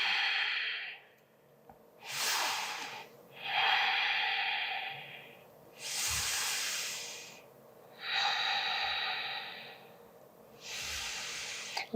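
Deep, slow breathing during a yoga flow, six long airy breaths in and out with a steady, hissing rhythm, close and alone.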